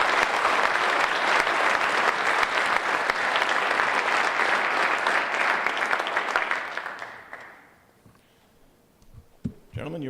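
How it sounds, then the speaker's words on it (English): An audience at a high school football award ceremony gives sustained, dense applause for about seven seconds, then it fades out, leaving quiet room noise and a brief voice. "how about one nice last round of applause for our candidates this year?"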